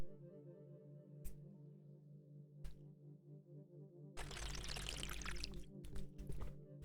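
Water poured into a glass for a drink, a steady splashing gush of a few seconds, fairly loud and close, with no talking during the pour.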